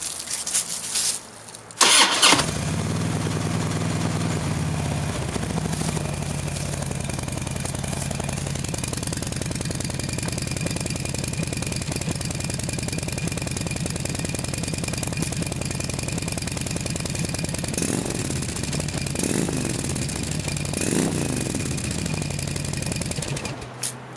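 A Harley-Davidson motorcycle on its old mufflers cranks, fires up and settles into a loud, steady, close-up idle with a deep rumbling throb that lasts over twenty seconds.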